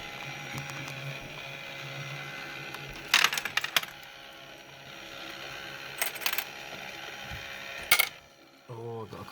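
Coins clatter down inside a 2p coin pusher arcade machine in three quick metallic bursts, set against a steady hum of amusement-arcade machinery, with a voice speaking briefly at the end.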